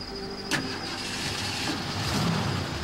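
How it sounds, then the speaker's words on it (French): A car engine cranks and catches with a brief sharp burst, then settles into a steady low rumble, fairly close with no voices. "La voiture de la victime démarra sans problème."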